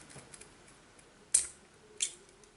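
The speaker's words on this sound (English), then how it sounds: "we're going to take some scissors and we're going to cut just approximately" Two short, crisp snips a half second apart, quiet and close, with faint rustling between them.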